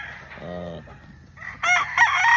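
A gamefowl stag, a late-born young rooster, crows close and loud in a short, strained call after a few softer clucking sounds.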